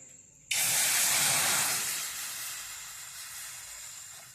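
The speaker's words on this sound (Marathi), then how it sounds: "आपण त्याच्यावर कढई पण ठेवून घेतलेली आहे. आता त्याच्यामध्ये मी पाणी टाकून घेणार आहे." Water poured into a hot wok hits with a sudden loud hiss that bursts into steam and sizzle, then slowly settles into a softer, steady fizz.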